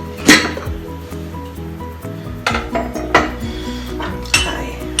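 A steel pressure cooker of tomato rice is opened after its whistles: a handful of sharp metallic clanks and clinks from the lid and utensils, close and fairly loud, spaced over a low steady hum.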